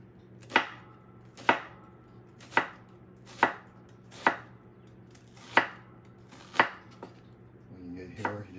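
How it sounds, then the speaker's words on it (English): Knife chopping halved, skinned onions on a cutting board, seven sharp, evenly spaced cuts about once a second, close and clear, followed by a softer scraping shuffle at the end. "Let's go ahead and cut them."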